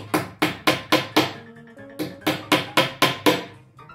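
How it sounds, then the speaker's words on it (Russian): Hammer blows driving nails into wooden parts during a carpentry lesson, a steady run of sharp close strikes, five quick hits, a short pause, then seven more in even rhythm. "ставите ограждение сверху и просто прибиваете сверху"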